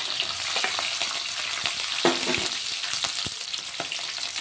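Chopped onions and green chillies fry in hot oil with a pinch of asafoetida for fried rice, giving a constant close crackling sizzle broken by occasional spoon clicks and stirring scrapes.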